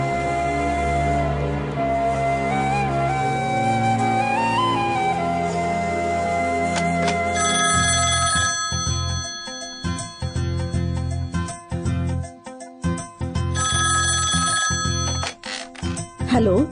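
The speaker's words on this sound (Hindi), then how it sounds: "किसका फोन है माँ?" A telephone rings in the later part of a film scene, with a repeating bright electronic ring pattern over music and dialogue, loud and near.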